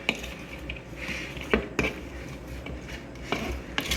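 Shrimp and chopped onions being stirred in a pan or pot for a shrimp pasta salad, with scraping utensil-on-cookware scrapes and a few sharper clinks at an uneven pace, close and moderately loud.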